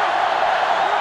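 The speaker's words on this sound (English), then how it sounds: "And this crowd is going crazy." A stadium crowd in the NCAA Football 2005 video game gives a brief, steady roar of cheering, a dense wash of many voices with no distinct words.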